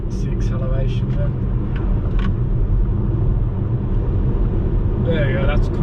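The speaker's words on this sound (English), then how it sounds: "Acceleration to overtake safely" VW ID.3 electric car accelerating on a busy national road between the Algarve and Lisbon, a loud steady cabin rumble of tyres and road noise with brief voices speaking over it.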